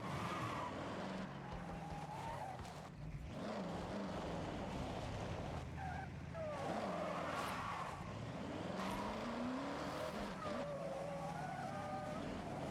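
A car driving at a steady pace, a continuous engine and road rumble with shifting tire noise and occasional swells, heard from inside or close by throughout.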